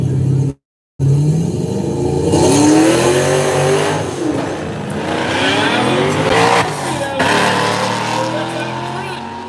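A Corvette and a Pro Charger Camaro drag racing at a no-prep event, engines roaring loud and close as they launch and rev hard through the run, with a brief cutout early on and a commentator's voice over the noise.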